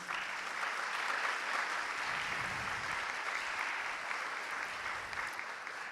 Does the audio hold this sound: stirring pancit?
no